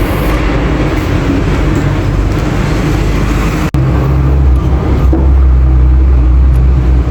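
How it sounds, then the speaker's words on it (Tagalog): Cars pass on a busy road just outside a house, a continuous loud roar of traffic with a brief sharp knock partway through and heavier rumbling vehicles afterward. "dahil malapit to sa kalsada, maraming sasakyan na dumadaan, yung ingay sa labas"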